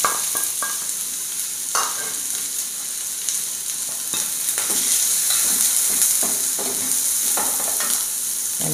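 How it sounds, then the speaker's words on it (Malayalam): Onion and green chilli hit hot oil with cumin seeds, giving a steady loud sizzle and hiss throughout, broken by scraping stirring clicks and taps of a spoon in the pan, no voices. "ജീരകം മൂത്ത് കഴിഞ്ഞ് അതിലേക്ക് നമുക്ക് ഈ സവാളയും പച്ചമുളകും ഇട്ട് കൊടുക്കാം."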